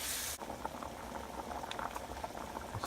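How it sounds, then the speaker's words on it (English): A pot of shrimp étouffée with softened onion bubbles at a steady boil, a quiet continuous simmering gurgle heard close up, with a faint clunk at the start. "It's steadily boiling."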